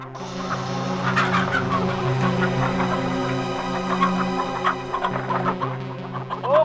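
Poultry on a farm gives off a steady, dense chorus of clucking and gobbling fowl calls, loud and continuous with overlapping voices and no talk.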